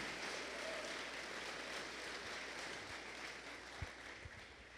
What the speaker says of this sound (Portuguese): Você pode dar uma salva de palmas, glorificando ao Senhor mesmo?